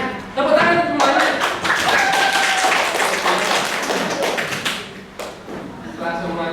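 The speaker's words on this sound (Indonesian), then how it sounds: "tepuk tangan semuanya" A classroom audience of teachers and students claps together after presentations, with loud, dense clapping broken by a few pauses and talk mixed in throughout.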